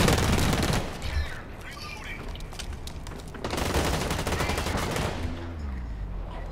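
Burst rifle fire in the video game Blacklight Retribution, rapid clusters of shots crackling across several seconds with brief lulls between bursts.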